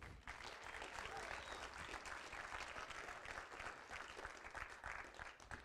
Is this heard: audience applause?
yes